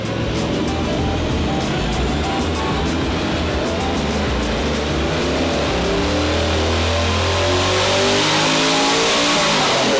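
An LS-swapped Audi Quattro running four diesel turbos, strapped to an AWD dyno, revs hard and continuously, its engine note climbing steadily over ten seconds with a rising turbo whine, loud and close, with no talking.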